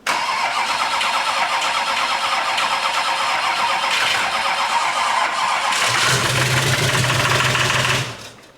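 A 6.6 Duramax diesel engine swapped into a Jeep cranks and fires for the first time, running loud, close and steady with a knocky edge, with a deeper low rumble in the last few seconds before it cuts off.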